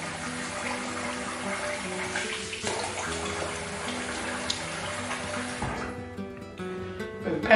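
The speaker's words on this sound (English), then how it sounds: "quick rinse." Tap water runs steadily into a sink as a razor is rinsed during a wet shave, a close, continuous splashing hiss that shifts slightly near the end before stopping, with no voices.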